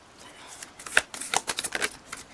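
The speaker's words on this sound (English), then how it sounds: "I'm just having a little bit of a harder time shuffling them" Oversized tarot cards are shuffled by hand in a series of quick papery riffles and slaps, close and crisp, with a brief card flip and some light talk around it.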